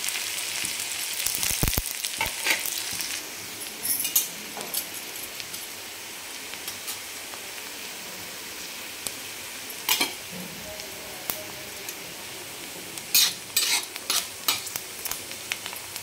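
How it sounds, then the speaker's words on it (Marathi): Chopped onion sizzles in oil in a pan, a steady hiss with occasional sharp spoon scrapes and clinks, close and moderately quiet. "कांदा पण आपल्याला छान तेलावर परतून घ्यायचा."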